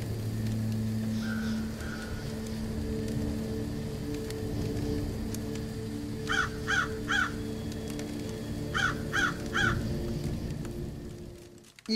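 Several bursts of crow cawing in a werewolf video game, each a quick run of three or four harsh calls, heard twice over a steady low game soundscape.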